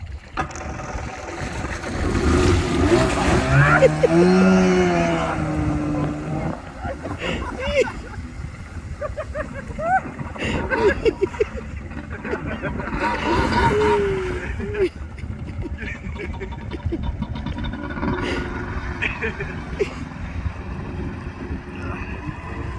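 A Kawasaki JS550 jet ski rides on water in a circle, its engine droning and surging under wind buffeting on the microphone, while people talk over it.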